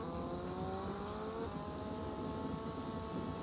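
Car engine droning steadily in GTA Vice City while the vehicle rounds a corner, a continuous mid-pitched whir with a faint rising tone, no voices over it.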